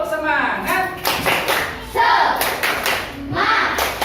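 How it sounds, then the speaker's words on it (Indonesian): Schoolchildren in a classroom perform a rhythmic spirit clap, with sharp bursts of hand claps in a patterned beat mixed with children's chanting voices, close and lively. "Coba tepuk semangat."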